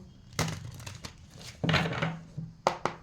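Tarot cards being drawn from a deck for a love reading, with close, papery crinkles and sharp flicks in short irregular bursts.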